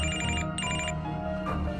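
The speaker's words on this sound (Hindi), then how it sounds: "यहाँ कॉल बैक आता है।" A telephone ringtone sounds for an incoming call back, two bright electronic ring bursts in quick succession followed by a softer tone, loud and close with no talking.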